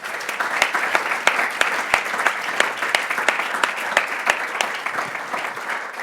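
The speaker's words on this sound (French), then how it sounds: "je vous propose de les applaudir." Audience applauding a panel at the close of a French round-table discussion, steady clapping from a fairly large room with sharp individual claps standing out, no talking over it.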